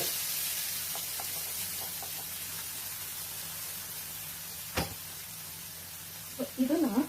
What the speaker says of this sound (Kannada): ಇದನ್ನ ಈಗ ಚೆನ್ನಾಗಿ ಫ್ರೈ ಆಡಿಸ್ಕೊಳ್ಳೋಣ